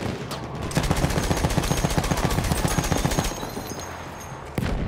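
Rapid gunfire from Battlefield 1 multiplayer rattles in a fast, steady burst of closely spaced shots for several seconds, loud and near, then tapers off before a final sharp crack.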